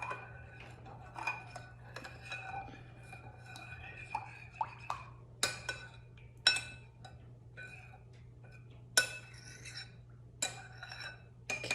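Melted soy wax mixed with coffee grounds is stirred in a container, giving light clinks and scrapes at an irregular pace over a steady low hum, with a few louder knocks.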